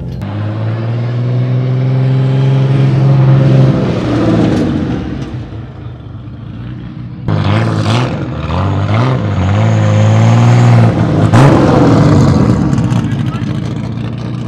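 A six-cylinder turbo drag racing car at an airfield drag event in Thaba Nchu, South Africa, its loud engine droning and surging through two long runs, with people talking over it.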